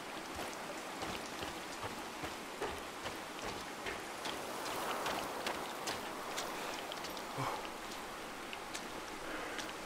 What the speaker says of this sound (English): how is it raining in the cave?